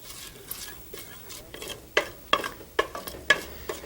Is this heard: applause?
no